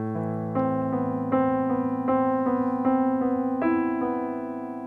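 Piano chords sound in a slow, even sequence of sustained, ringing tones, each new strike layering over a low held bass, no voices.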